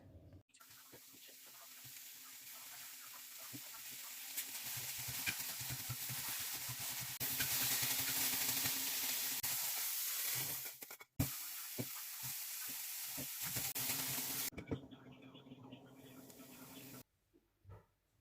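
Mixed vegetables for Korean gimbap stir-fry in a pan with a steady, broad sizzle and hiss, close and moderately loud, broken by a few brief pauses and clattering stirs.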